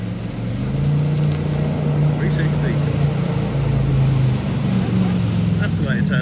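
A jet boat engine idles and rumbles loudly on the Shotover River in New Zealand, a deep steady drone close by, with voices talking over it.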